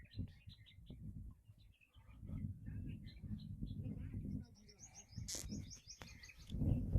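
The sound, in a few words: birds chirping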